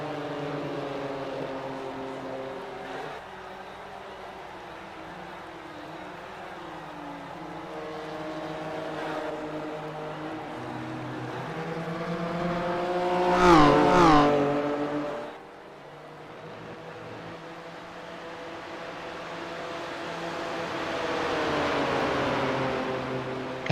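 Red Bull BMW M2 race car engine on track, a continuous revving drone with gear shifts, swelling to a loud close pass midway, then fading and building again as other cars approach.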